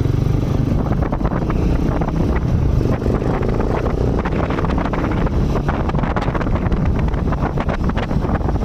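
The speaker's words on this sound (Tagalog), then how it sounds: "kalakas lang ng hangin talaga eh" Steady, heavy wind roar buffets the microphone throughout, a dense low rumble with a faint hum beneath it from a Rusi Sigma 250cc motorcycle engine with Keihin flat slide carburetors.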